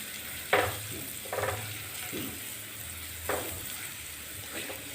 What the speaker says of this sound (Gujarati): તો હલાવી અને આપણે મિક્સ કરી લઈશું